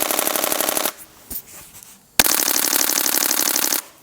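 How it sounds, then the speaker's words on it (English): A Canon 1DC camera fires a rapid shutter burst at 1/5000 second, about fourteen frames per second, as a fast clattering rattle lasting nearly a second, then a pause, then a second longer burst, loud and close. "This has a 14 frames per second in JPEG and 12 frames per second in RAW. So let's have a listen to that."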